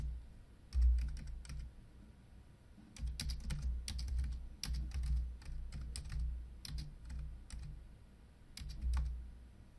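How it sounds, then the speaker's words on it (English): Someone types on a computer keyboard in quick, irregular bursts of clicking keystrokes with short pauses, close and fairly quiet, without any talking. "let's go ahead and start typing and watch what happens"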